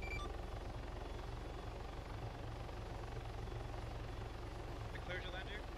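A Chinook helicopter in the video game Arma III produces a steady, loud rotor thump and engine drone, with the thudding beat continuing unbroken throughout and radio-style voices talking over it.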